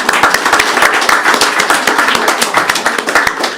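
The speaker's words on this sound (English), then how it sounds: "One more round of applause." Audience applause at a panel event on climate finance in emerging markets, a dense steady burst of many hands clapping close by for the full stretch, with no talking over it.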